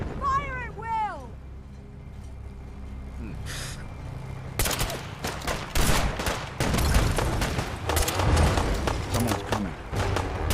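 Gunfire erupts in a Fallout 4 battle in the fog, a burst of shots starting partway in and continuing as dense, loud, irregular volleys over game voices and shouting.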